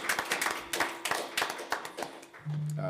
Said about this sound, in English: Let's give all of them a round of applause for just celebrating.